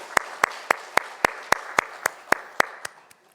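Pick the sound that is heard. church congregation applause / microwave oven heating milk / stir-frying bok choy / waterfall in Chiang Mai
church congregation applause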